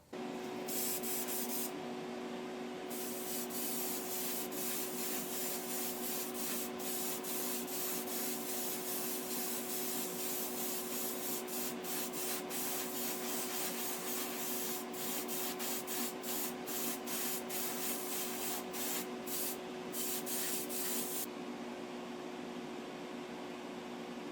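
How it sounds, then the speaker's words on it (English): A spray can lays clear coat onto a customized Hot Wheels Vintage Baja Beetle, producing a steady, hissing spray with brief gaps and restarts over a constant background hum; no voices. "just getting ready to clear coat this now"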